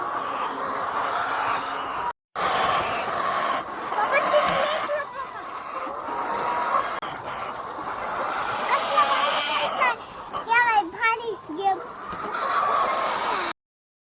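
Hens cluck over and over inside a poultry coop on a farm holding thousands of laying birds, with the calls overlapping against a steady barn din and a brief break early on.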